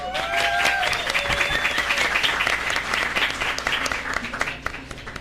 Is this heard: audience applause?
yes